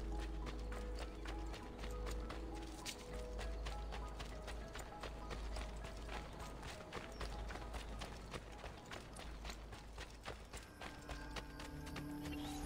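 Horse hooves gallop in the video game Assassin's Creed Brotherhood, a steady, rapid clip-clop rhythm that runs continuously over a low background rumble.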